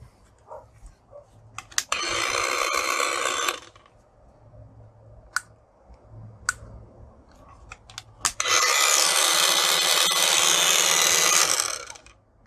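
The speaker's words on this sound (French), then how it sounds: "notre petite meule a été contrôlée, elle fonctionne bien, bon, c'est bruyant" Small grinding wheel running in two loud, harsh whining bursts of a couple of seconds each, with quiet handling clicks and a low hum between them.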